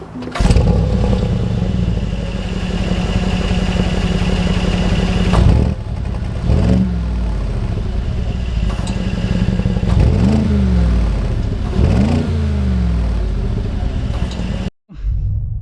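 A 2025 Mercedes G63 G-Wagon engine cranks and catches into a loud, close rumbling idle, then rises into several sharp revs spaced a couple of seconds apart before cutting off near the end.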